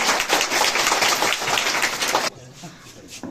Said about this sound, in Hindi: इनका तालियों से अभिवादन करें।